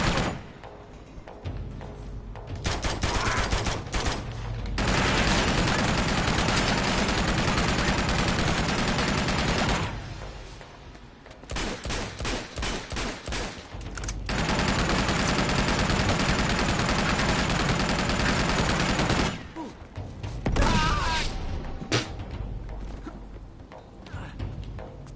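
Sustained gunfire in a third-person action-adventure game, long loud stretches of rapid shooting broken by short quiet gaps, with dense, overlapping shots and no voices over the top.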